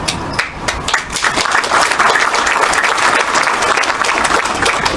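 Steady, dense applause from an audience at a community speech event with a Canadian MP, loud and continuous for the full stretch after a brief dip at the start.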